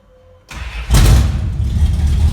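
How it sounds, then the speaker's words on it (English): A Plymouth Roadrunner starts after near silence, a brief crank followed by the engine catching with a loud burst, then settling into a close, steady idle rumble. "Car always just cranks right up"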